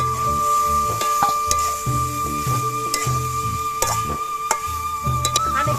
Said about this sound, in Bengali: এবার এর মধ্যে আমি ভাজা আলুগুলো দিয়ে দিচ্ছি।